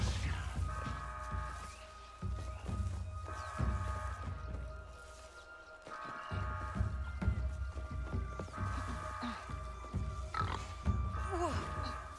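Pig-like creatures grunt and oink repeatedly in Star Wars Outlaws, over a steady droning backdrop with clopping, thumping sounds.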